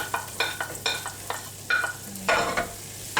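A whole large onion cooking in butter with a teaspoon of sugar over fairly low heat, soft sizzling under a series of distinct stirring scrapes and clicks, close and fairly quiet.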